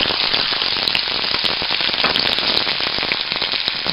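Green chilies and garlic frying in hot oil with eggplant, a loud, dense sizzle full of rapid pops and crackles that runs continuously and close up with no voices.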